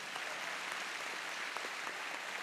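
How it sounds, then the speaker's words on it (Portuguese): A church congregation applauds during a Portuguese-language worship service, steady even crowd clapping at moderate level throughout, no voices over it. "Você pode aplaudir ao Senhor pela vida deles?"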